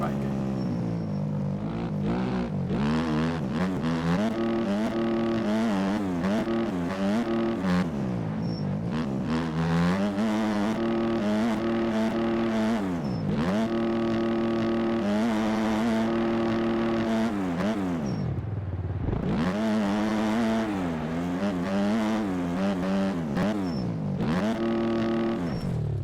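OEM Kawasaki dirt bike engine in the MX Bikes motocross game, revving up and down continuously through gear changes and throttle swells over a lap, loud and close, with occasional brief drops in revs.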